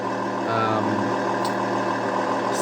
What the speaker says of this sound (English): So this is a diesel. Obviously, it's not gonna sound all like perfect.